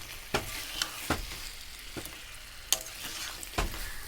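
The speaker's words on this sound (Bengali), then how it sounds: "তো দেওয়ার পর আর একটু আমি নেড়ে চেড়ে নেব, যাতে আলুর মধ্যে মশলাটা ঢুকে যায় ভালোভাবে।" Fried potatoes are stirred into a spicy chicken curry in a pan, with a constant close sizzle broken by regular scraping strokes of the spoon, about one every half second.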